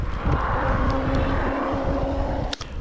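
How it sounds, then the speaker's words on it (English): Several e-bikes pass along a road near Yellowstone, a continuous mid-level whir and rush of motion rising and fading, with a brief louder swish near the end; no one speaks. "you're going to hear a couple of e-bikes go past us"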